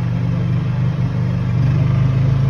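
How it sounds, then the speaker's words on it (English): Close, steady drone of a hybrid golf cart's engine that dips briefly then swells a little louder as it speeds up, a low mechanical hum running without any talking. "You can hear the engine getting louder."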